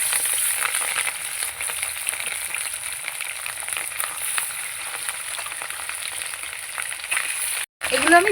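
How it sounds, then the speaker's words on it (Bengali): Pieces of katla fish fry in a kadai, giving a steady, close bright sizzle that runs on evenly, broken by a brief cut near the end. "পরের মাছগুলো দিয়ে দেবো কড়াইতে"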